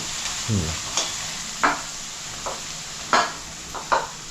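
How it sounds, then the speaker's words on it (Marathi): Onions frying in oil sizzle at a steady hiss as fenugreek greens go in, with a soft plop and several short stirring scrapes of a spatula against the pan, close and alone. "कांदा शिजला आता मी भाजी टाकते"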